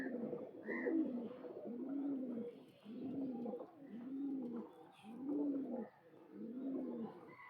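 Paired pigeons coo steadily, six or seven low throaty phrases spaced about a second apart, near and soft, with a few faint higher chirps above them and no talk.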